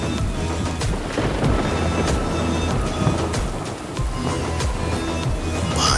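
A night thunderstorm pours heavy monsoon rain in a steady, dense roar, with low rumbles of thunder rolling underneath and no voices.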